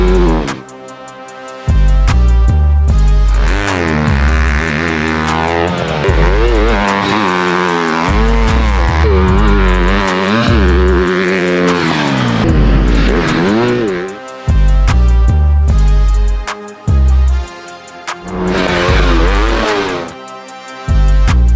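A TM MX 300 dirt bike with an HGS exhaust being ridden: loud two-stroke engine revs climb and fall repeatedly, with sharp throttle blips, brief drops and sustained high-pitched wailing acceleration.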